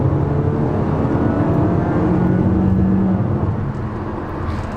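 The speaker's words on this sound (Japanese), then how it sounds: "今ね5500回転ぐらいまで回ったところで、あの感じのね音です" A Honda WR-V engine revs up to about 5500 rpm while the car is driven on the road, a loud, steady drone with a rising pitch, joined by road and wind noise throughout.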